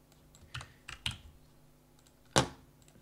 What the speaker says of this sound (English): So let's press I on the keyboard and left mouse button.